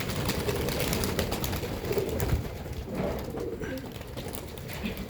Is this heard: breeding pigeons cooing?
yes